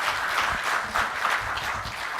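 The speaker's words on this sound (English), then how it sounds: "A round of applause for Chairman again." An audience at a bank's half-year financial results event applauds steadily, a dense, fairly even wash of clapping with no voices over it.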